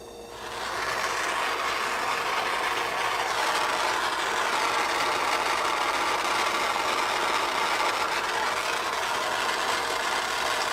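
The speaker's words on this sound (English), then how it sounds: "I'm going to bring my flame down just a little bit. See, I keep moving the torch." A gas torch flame plays over high-flow wire solder on the seam of a metal cuff bracelet, giving a steady, loud broadband roar that holds unbroken throughout after a brief quieter start.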